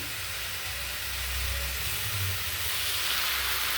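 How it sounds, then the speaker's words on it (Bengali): Fish frying in a pan on a home stove gives a steady, even sizzling hiss with a low rumble beneath, close and unbroken, with no voices. "আমি এই যে অন্য চুলায় মাছটা ভেজে নিছি"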